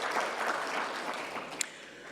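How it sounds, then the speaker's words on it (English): Audience applauding at a conference closing ceremony, a steady dense wash of clapping from many hands, continuous throughout with no speech over it. "give a round of applause to the executive committee for a well job done"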